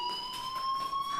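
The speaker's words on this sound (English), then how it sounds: "do you hear that fire alarm?" A fire alarm rings steadily in the Life is Strange video game, a continuous high electronic tone with bright overtones that holds unbroken throughout at moderate loudness, with no one talking.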